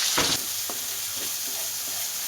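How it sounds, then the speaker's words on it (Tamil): Raw green masala sautés in oil in a pan, giving a loud steady sizzle broken by a few short scrapes of a stirring spoon, with no voices. "இப்போ இதை எடுத்து இந்த எண்ணெயில் போட்டு நல்லா வதக்கலாம்"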